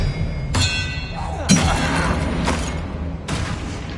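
Expelliarmus spell cast in Hogwarts Legacy, heard as a sharp magical burst with a low thud and a brief shimmering crackle amid a dense layer of combat effects, followed by further bursts. No voices are heard.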